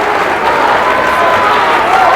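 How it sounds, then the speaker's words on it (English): A crowd at a Harrisburg boys high school basketball game cheers and claps loudly, a dense, sustained roar of applause and voices filling the gym with no break. "Hear the Harrisburg crowd, Dan, getting into it."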